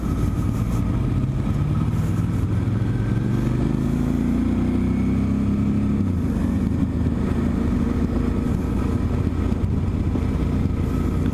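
A motorcycle rides along a winding country road, its steady mid-pitched engine drone loud and continuous, with a slight rise and fall in revs as it leans through the bends.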